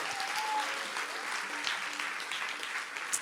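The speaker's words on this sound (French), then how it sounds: "Est-ce qu'on peut applaudir pour leur vie ?" A church congregation breaks into sustained applause, a dense, even patter of many clapping hands that carries on at moderate volume for several seconds.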